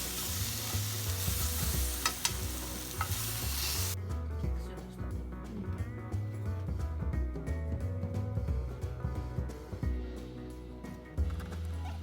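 Ginger pork frying and being stirred in a pan, a steady close sizzle with scraping stirs; the sizzle is brighter for the first few seconds, then settles into a softer crackle with repeated utensil clatter.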